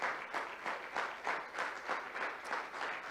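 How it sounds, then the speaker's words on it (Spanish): A church congregation claps in praise during a Spanish-language service, rhythmic unison clapping pulsing about three times per second, moderately soft and steady. "Vamos a darle un fuerte aplauso al Señor"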